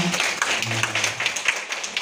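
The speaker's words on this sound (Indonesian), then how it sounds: "Tepuk tangan semua" An audience at a community health screening event claps together in a steady, fairly close patter of hands, with faint voices mixed in underneath.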